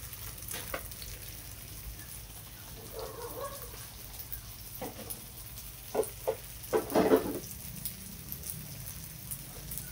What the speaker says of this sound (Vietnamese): Nước đã sôi nhiều.